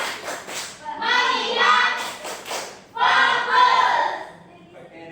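A classroom of children doing a rhythmic focus-clap routine, bursts of group chanting punctuated by claps and thumps in two main phrases, close and fairly loud, with a teacher's voice leading.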